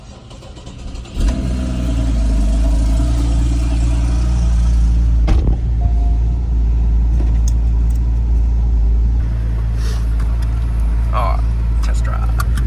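A Porsche Cayman S engine runs as a steady, low, close drone from inside the car during a test drive, holding an even tone throughout, with some talk in the cabin.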